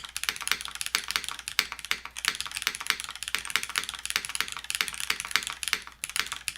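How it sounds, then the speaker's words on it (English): Fast steady typing on a Sensy Seal80 mechanical keyboard with a gasket-mounted build: dense, close clicks and clacks in an unbroken rhythm, with no voice. "I love the feeling of the keyboard."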